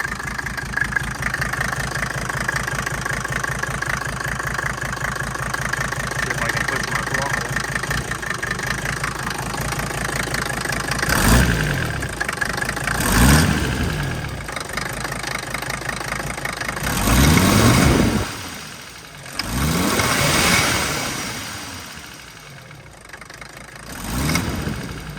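A swapped Mercedes OM617A turbo diesel runs with a slight exhaust leak: steady knocking diesel idle with rhythmic clatter, broken by several short revs that swell and fall, close and loud, no talking.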